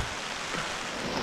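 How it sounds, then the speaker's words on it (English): Steady rain falling outdoors in Fiordland, a constant dense hiss of drops with no voices. "It is still raining. 8 days later, it's still raining."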